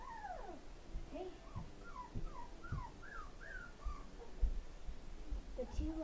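Ten puppies, black and brown, whimper and yip in a run of high, falling whines and short squeaks. Soft thumps and low shuffling sit underneath, and a faint voice comes in near the end.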